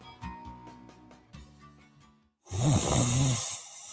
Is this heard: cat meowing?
no